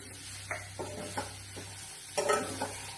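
Curry is stirred in a hot pan with chili powder and salt, giving a low steady sizzle under a few scraping strokes of a spoon, the last ones louder and closer.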